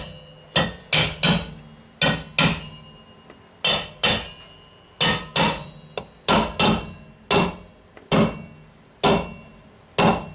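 A hammer taps a brake drum back onto a wheel hub during a vehicle inspection, sharp metallic strikes in short clusters of two or three, close and loud, each ringing briefly.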